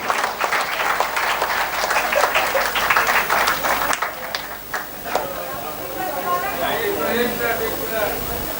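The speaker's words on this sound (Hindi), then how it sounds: "तालियों से इस्तकबाल करें" Audience in a college auditorium applauding at a mushaira poetry gathering, loud dense clapping for several seconds that thins out, followed by someone speaking over the hall.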